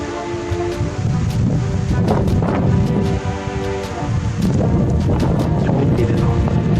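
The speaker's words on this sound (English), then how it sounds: "It's windy though." Strong wind roars and buffets the microphone at a campsite in Riding Mountain National Park, Manitoba, a loud, continuous rushing with gusty swells and no voices.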